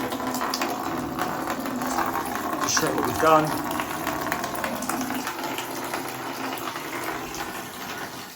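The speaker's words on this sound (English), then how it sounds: "we'll turn it on gently just to put some water through it, not too much that we flood the house" Water flows through newly fitted household plumbing pipes as a steady rushing hiss, with someone talking over it.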